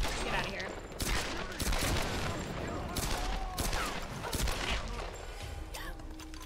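Gunfire in the video game Tomb Raider: rapid bursts and scattered single shots of a firefight, loud and irregular, with game voices briefly heard amid the shooting.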